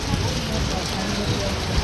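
Constant heavy rainfall hisses loudly and evenly throughout near the Maa Bagalamukhi temple in Assam, a dense wash of drops with faint low rumbling underneath.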